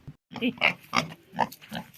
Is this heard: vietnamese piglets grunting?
yes